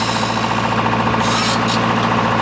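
An engine on an old sailing catamaran runs loud and steady, a continuous throbbing mechanical drone with a rapid knocking rhythm, close and unbroken throughout.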